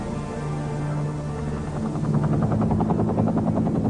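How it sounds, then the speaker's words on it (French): A government helicopter arriving, its steady rotor drone loud and continuous, the blade chop growing stronger and more pulsing as it draws nearer. "un hélicoptère du gouvernement vient le chercher"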